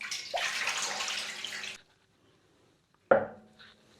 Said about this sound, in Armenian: հիմա լցնում ենք ընդամենը 1 լիտր ջուր